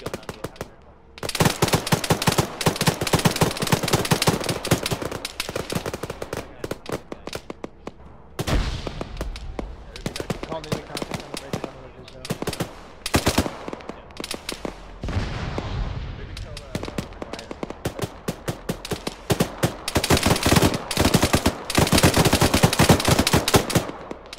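Gunfire in Arma during a ShackTac squad battle: dense bursts of automatic fire and single shots, some near and loud, some distant, with a heavy blast, continuing almost nonstop while voices talk over radio.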